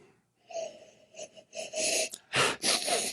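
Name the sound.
sniffing a glass of whiskey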